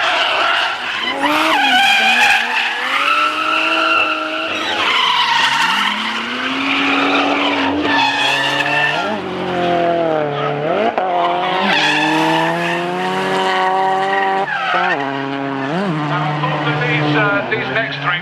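Drift cars at Castle Combe circuit in the UK squeal their tires in long wailing skids over roaring engines, the shrieks rising and falling as cars pass, with a commentator talking over it.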